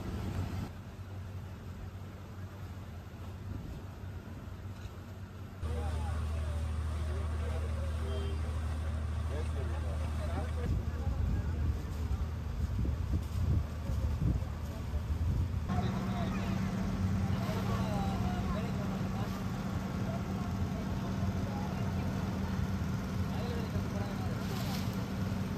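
A passenger ferry on the Kottayam–Alappuzha backwater route runs with a steady low engine drone that changes level partway through, heard from the front of the boat with faint chatter around.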